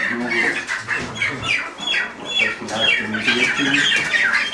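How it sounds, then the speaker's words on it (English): Several chickens cluck continuously in a busy, close chorus, with overlapping calls and some background noise. "And there are some chickens."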